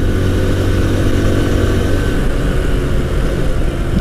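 Loud, close engine drone of a 2020 TVS Apache RTR 160 2V motorcycle while riding, a steady buzzy rumble with vibration and wind, no talking.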